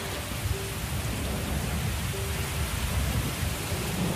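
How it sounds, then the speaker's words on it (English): November rain soaks parched savanna ground in a steady, dense hiss, with a low thunder rumble rolling underneath throughout and no voices. "The iron grip of the dry season is dramatically released as the November rains soak the parched"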